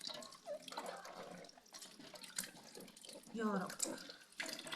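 Running tap water splashing as eggplants are washed one by one in a sink, close and fairly quiet with irregular splashes, while someone speaks briefly over it.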